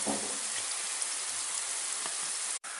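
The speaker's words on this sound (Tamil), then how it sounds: "இப்போ சின்ன வந்து எண்ணெயில் போட்டு பொரிச்சாச்சு, நல்லா வெந்துச்சு." Chickpeas fry in hot oil for a homemade channa fry, giving a steady, soft, rain-like sizzle that holds evenly throughout and cuts out briefly near the end.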